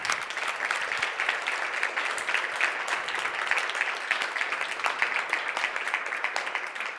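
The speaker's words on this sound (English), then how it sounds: "I would like still to give a big applause to all the pitchers today" A startup pitch night audience gives steady, sustained applause, dense clapping from a crowd filling the room at even loudness throughout with no talk over it.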